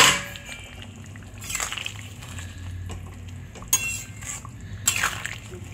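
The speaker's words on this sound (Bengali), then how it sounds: "এবার এই ঝোলের মধ্যে এই ভেজে রাখা মাছগুলো," Fried tangra fish pieces are added to a simmering fish curry, with close clinks of a utensil against the pot, soft liquid splashes and bubbling, and a few sharper metallic taps.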